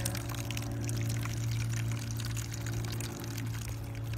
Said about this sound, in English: So let's see what our outcome is when rain falls from the sky on this little model.